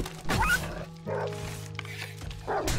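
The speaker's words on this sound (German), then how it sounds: "Vorsicht, Hund!" Dogs bark and yip in 7 Days to Die: one sharp bark, then a short series of yelping barks mixed with whimpers over steady game background hum, fairly close and loud.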